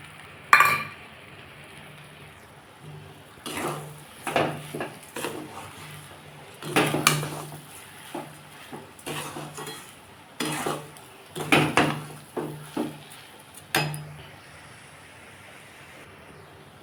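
A spoon scrapes and clanks against a pan while chana dal halwa with sugar is stirred continuously, giving irregular bursts of metallic knocks and scraping with short pauses between them, close and fairly loud, with no talking.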